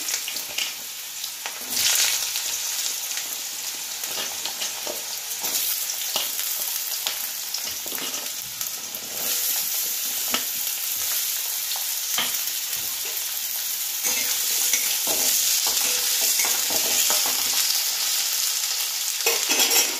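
Potatoes fry in hot oil seasoned with dried red chilli, giving a steady, close sizzle with scattered crackles and occasional stirring scrapes throughout, and no voices.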